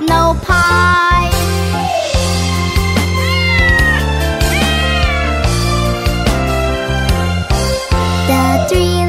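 Kittens meow over and over in a cheerful kids' nursery song, the cries loud and upfront against a bright instrumental backing with tinkling accents, sung in a steady bouncy rhythm.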